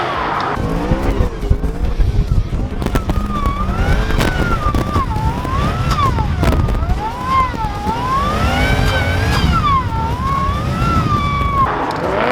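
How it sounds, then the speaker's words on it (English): A supercharged BMW M3 skids at a drift day, tyres squealing in long wavering wails over a loud engine roar, continuous and close for the whole stretch. "Mario also got to go out in a supercharged M3."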